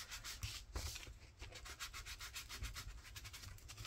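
A journal page is rubbed to distress it, a soft close scratchy back-and-forth scrubbing in quick strokes, quiet and continuous throughout with no talk.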